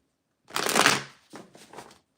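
A deck of tarot cards is shuffled close by in two quick bursts, a longer riffling rush followed by a shorter, softer one, with no voices.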